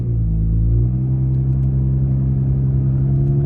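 Car pulling off in second gear in sport mode, a steady low engine drone with a slight rise and settle early on, then a smooth, even rumble heard from inside the cabin.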